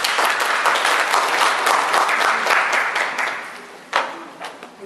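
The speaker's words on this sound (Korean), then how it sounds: "박수로 맞아주시기 바랍니다." Audience applause at a Korean academic conference and vision proclamation ceremony, a full, steady burst of clapping that fades over the last second or two into a few isolated claps.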